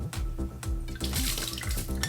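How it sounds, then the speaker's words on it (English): Water from rinsed rice poured off through a strainer, a continuous splashing gurgle with sloshing, bubbling surges, close and fairly loud, no voices. "Pour out that water."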